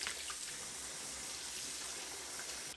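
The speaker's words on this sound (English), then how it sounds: "I wanted to come up and wash my hands." Water runs steadily from a tap as hands are washed at a sink, a quiet, even hiss and splash that continues without pause.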